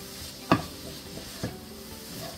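Egg roll filling being stirred in a hot pan, a steady faint sizzle broken by two sharp scraping clacks of the utensil against the pan, close and alone without talk.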